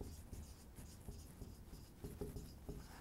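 Pen or marker writing on a board during a maths lesson on angles of depression, a steady scratchy stroking with short pauses, close and moderately loud with no voice over it.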